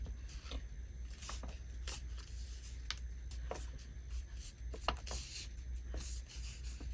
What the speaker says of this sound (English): I want to fold this piece of paper